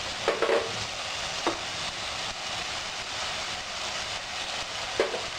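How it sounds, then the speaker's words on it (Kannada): Ginger garlic paste frying in a pan for rajma masala, a steady close sizzle with a few brief spoon scrapes and clicks spread through. "ಬೆಳ್ಳುಳ್ಳಿ ಶುಂಠಿ ವಾಸನೆ ಹೋಗುವವರೆಗೂ ಫ್ರೈ ಮಾಡ್ಕೊಬೇಕು"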